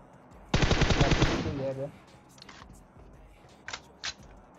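Fast burst of UMP submachine gun fire in PUBG Mobile, a loud rapid string of evenly spaced shots lasting about a second and a half, followed by a few faint distant pops and clicks.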